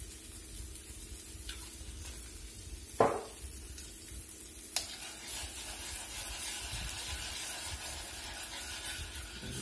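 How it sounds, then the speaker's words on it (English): Gravy with a dash of browning sauce simmers around cube steak in a pan, a soft continuous sizzle and bubble with a couple of brief clinks from a spoon or pan, no talking. "Just going to let that come on up there to a simmer."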